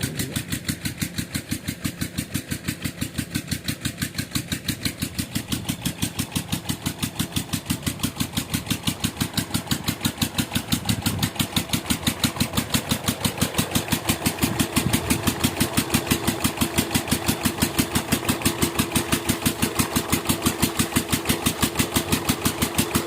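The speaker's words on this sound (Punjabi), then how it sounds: "ਇਹ ਉਹਨਾਂ ਨੇ ਫੀਟਰ ਚਲਾਇਆ ਜੇ" A Peter diesel engine drives a water pump on a farm, chugging in a fast, steady rhythmic thump that stays loud and close throughout, with no talk.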